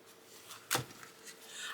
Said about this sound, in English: Oh yeah, these shuffle great.